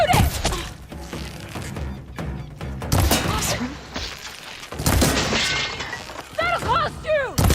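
In the video game Horizon Forbidden West, a barrel is shot and smashed, giving sharp bursts and booming impacts amid busy combat noise, with characters' voices calling out over the action.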